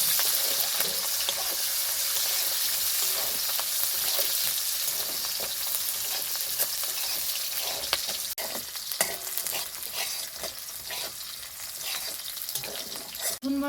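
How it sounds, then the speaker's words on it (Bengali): Chopped onion and capsicum stir-frying in a pan for chili chicken, a loud, steady sizzle throughout with occasional scrapes and clinks from stirring. "কেটে রাখা পেঁয়াজ, দিয়ে দেবো কেটে রাখা ক্যাপসিকাম। ভালো করে নাড়াচাড়া করে ভেজে নেব।"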